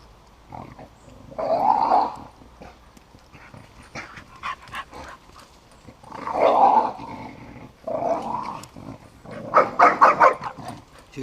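A dog growls protectively over its stick on an outdoor walk at Kinver Edge, in three or four rumbling bursts of low grunting growls, fairly close, with quiet gaps between them.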